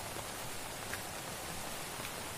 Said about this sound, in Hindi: आप लोग को नदी का आवाज़ सुनाई दे रहा होगा,